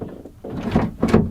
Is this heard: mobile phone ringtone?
no